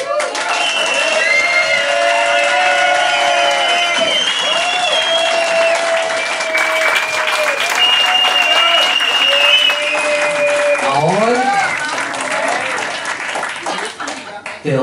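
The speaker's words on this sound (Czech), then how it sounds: "podpořte bouřlivým potleskem" A stand-up comedy crowd in a club bursts into loud, sustained applause and cheering for a comedian, dense clapping with whoops and shouts layered on top throughout.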